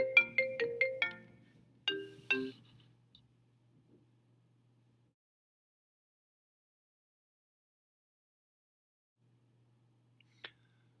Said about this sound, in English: You can have individualized sounds for each of the incoming notifications that you receive and adjust that volume here.